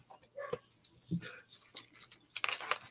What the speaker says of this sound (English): I think your dog wants your attention, Caitlin